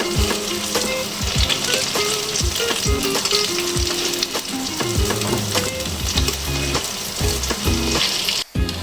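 Wheat flour batter-coated potato pakoras fry in hot oil, giving a loud, steady sizzle with crackling bursts and occasional clinks throughout, no voices present.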